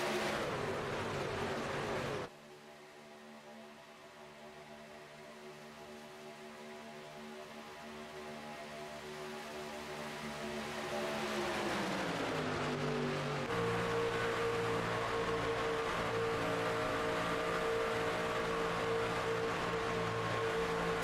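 Race trucks pack racing at Talladega in the iRacing video game, a sustained engine drone from several trucks that drops briefly then builds back to a steady, dense roar with shifting pitch, no talk.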